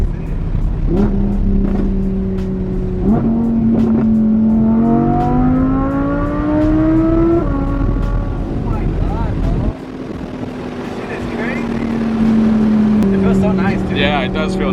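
A Nissan GT-R accelerates hard, its engine note climbing through the gears with a brief dip at a shift, loud and close from inside the car as people talk over it.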